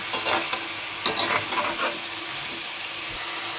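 A raw banana and rohu fish curry is stirred in a hot pan, with scraping strokes over a steady loud sizzle. No voices are heard.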